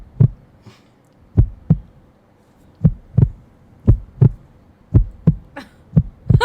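A heartbeat sound effect: loud, low, close thumps, mostly in lub-dub pairs, repeat at a quick, slightly uneven pace with near silence between them.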